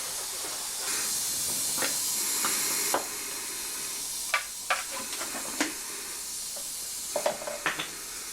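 Degreaser is sprayed onto a Daihatsu Charade body under restoration: a continuous aerosol hiss runs first, then a series of short, sharp spray bursts and clicks, close and alone.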